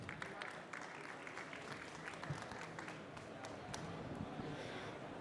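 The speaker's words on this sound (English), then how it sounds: "A big round of applause." Audience applause at the SAFE STEPS D-Tech Awards 2025 finals, a dense steady wash of many hands clapping that holds at an even level throughout, with a faint murmur of crowd noise underneath.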